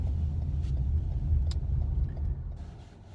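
A Lexus car driving slowly into a housing estate, a low steady engine and road rumble from inside the cabin that eases off toward the end.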